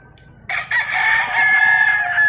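A gamefowl rooster crows loudly close by at a ranch, one long drawn-out call that starts suddenly and holds strong until the end.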